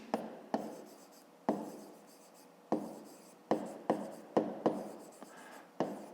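Pen or pencil writing by hand on paper while working a school math exercise, heard as close, crisp strokes with about a dozen sharp taps and scratches in an irregular rhythm, no talking.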